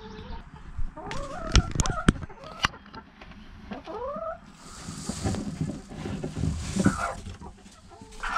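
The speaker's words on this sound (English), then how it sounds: "And there's our broody hen." A broody hen clucks and croons in low, rising calls, close by, with rustling and scratching sounds and a few sharp knocks around her.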